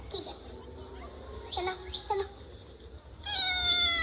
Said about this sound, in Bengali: বিড়ালগুলো খুব আনন্দের সঙ্গে খাচ্ছে মাছ ভাত